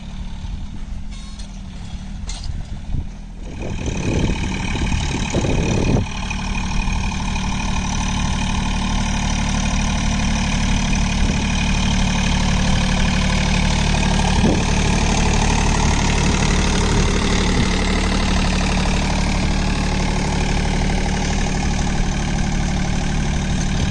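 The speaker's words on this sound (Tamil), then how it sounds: "ஹை செகண்ட் கியரில் ஆப்ரேட் பண்ணிகிட்டு இருக்கிறாங்க டிராக்டர் பார்த்திங்கன்னா." A John Deere 3028 EN 4WD mini tractor pulling a ridger in high second gear, its engine droning loud and steady throughout after a few rougher knocks at the start.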